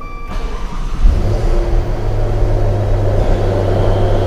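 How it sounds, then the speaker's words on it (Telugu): A 2024 Maserati Ghibli V8 fires up close by, and its exhaust roars into a loud, deep rumble that holds steady after the start. "let me show you the exhaust note"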